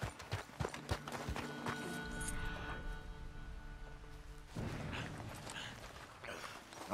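Horse hooves in Red Dead Redemption 2 during a boar hunt, a quick run of thuds early on and then steadier hoofbeats under game ambience and music.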